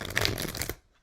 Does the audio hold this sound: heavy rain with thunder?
no